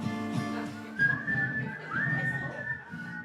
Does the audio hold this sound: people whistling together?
yes